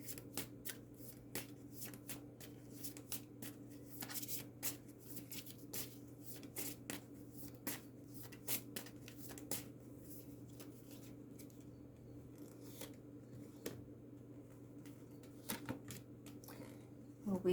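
A deck of cards is shuffled and cards are drawn. Soft, rapid riffling clicks and flicks repeat throughout, quiet and close, over a steady low hum in a calm room.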